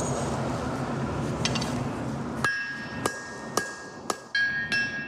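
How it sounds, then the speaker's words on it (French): Sharp, ringing hammer blows on hot mild steel at a forge: about six metallic strikes spaced roughly half a second apart, close and loud over a steady roar of the forge fire. "C'est tout un art de frapper au marteau."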